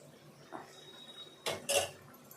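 A spoon scrapes and clinks against a metal pan while stirring lemon rice, with a faint tap first and two sharper clatters close together.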